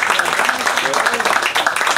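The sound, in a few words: audience applause at street inauguration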